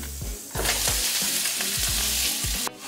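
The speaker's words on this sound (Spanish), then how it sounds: "en el mismo aceite vamos a añadir cebolla y zanahoria" Onion and carrot frying in oil in a home kitchen, giving a loud, steady sizzle that runs throughout, broken by repeated short stirring scrapes and bursts.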